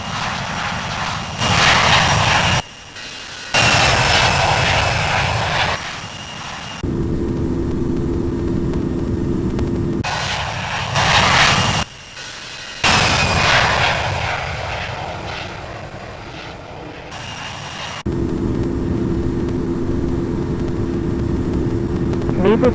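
A Delta Airbus A350 jet roars loudly on takeoff from runway 22 right, a steady broadband engine rush with abrupt cuts and returns, a tonal whine surfacing in later stretches.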